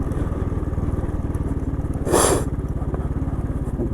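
Motorcycle engine running steadily while riding on a rough, slippery, steep road in traffic, with a close, continuous low putter and a brief louder scrape or clatter burst midway.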